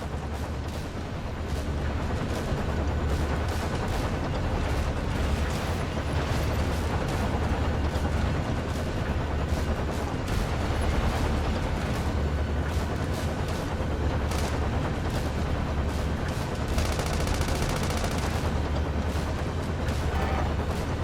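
Continuous dense gunfire and booming blasts in a Sand Land video game battle, with loud rapid bursts and explosions throughout, thick and unbroken.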